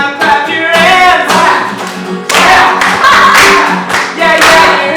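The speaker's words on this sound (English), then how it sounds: "Now clap your hands." Hands clap along to a cheerful sung song, several claps landing in rhythm amid loud singing voices and music, the claps mixed fairly close under the vocals.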